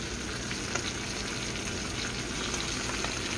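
Seasoned trout with peppers and lemon frying in a pan after being flipped, a loud, continuous, dense sizzle with faint bubbling throughout.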